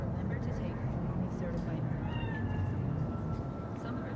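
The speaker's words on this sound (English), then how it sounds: "Chill, just a cat." A cat in the game Cyberpunk 2077 gives faint meows over a steady low rumble of background ambience, and a voice speaks around it.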